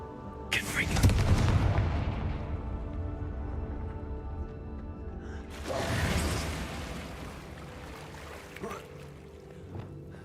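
Confringo blasting curse explosions in Hogwarts Legacy, two heavy booming blasts several seconds apart, each rumbling and crackling as it fades, with a calm spoken voice in between.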